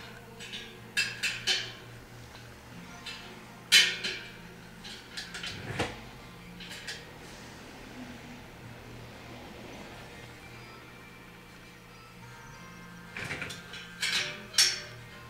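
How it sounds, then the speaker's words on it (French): Small metal clicks and ticks from a spoke wrench tightening the last few spokes on a bicycle wheel during truing, scattered irregular bursts close by over a faint hum, with no talking. "Il reste 2-3 raies à serrer, puis la roue elle devrait être pas mal droite."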